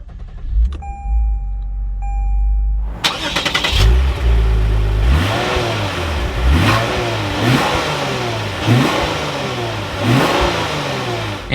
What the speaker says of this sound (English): But let's start up this IS 350 now.